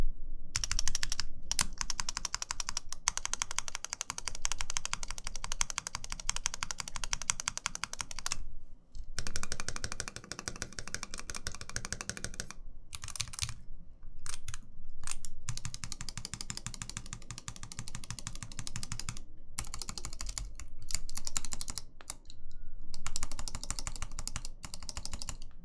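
Typing on a TKC1800R keyboard fitted with Tangerine switches, a steady, close clatter of keystrokes in quick bursts broken by short pauses, with no talk over it.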